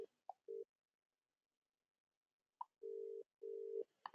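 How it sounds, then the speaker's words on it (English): A telephone ringback tone during a cold call, with short beeps followed by two long tones separated by silence, faint and clear with no talk. "Hopefully you can hear it ringing, guys."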